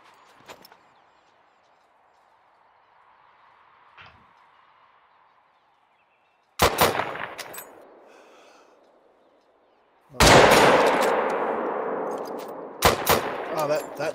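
Rifle shots in the hunting game theHunter: Call of the Wild, two loud sharp blasts several seconds apart, each followed by a long fading echo, after a quiet stretch with faint sounds.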